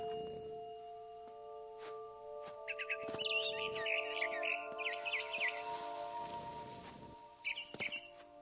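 A barn swallow outside a window in What Remains of Edith Finch gives a quick run of chirps in the middle, then one brief call near the end. Held musical tones and a few faint metallic taps sit underneath.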